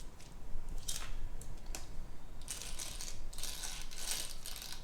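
A Mini4WD car with a Type 1 chassis runs along a cheap plastic track, giving a rapid buzzing, ratcheting whir in repeated bursts as it passes through sections, close and moderately loud.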